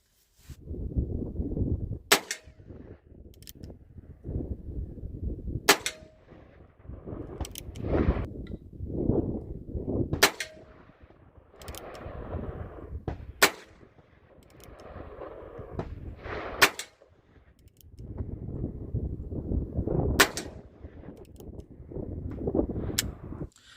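A Heritage Rough Rider .22 LR revolver fires about eight sharp, fairly light cracks spaced a few seconds apart, with rustling and handling noise between shots.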